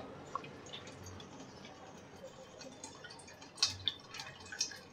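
Wheat starch milk strained through cloth drips in sparse, faint drops, with a small cluster of clearer drips near the end over a quiet room background.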